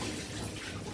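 Water from a tap runs steadily into a cooking pot, a continuous close splashing rush with no talk.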